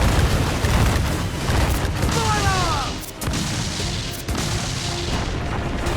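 Ship cannons fire in a naval battle in the video game Assassin's Creed IV Black Flag, with heavy repeated booms and rumbling blasts over dense battle noise and faint whistling streaks.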